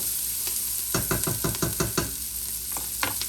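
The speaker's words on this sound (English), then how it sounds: "I'm going to salt and pepper the onions and peppers. Give them a stir." Onions and peppers sizzling in a pan with a burst of quick stirring strokes, a rhythmic scraping series over a constant close frying hiss.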